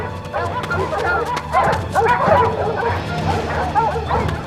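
Several cartoon hunting dogs bark, yip and whimper in an excited, overlapping pack during a mythological hunt scene. The sound is loud and continuous, with a voice speaking among the barks.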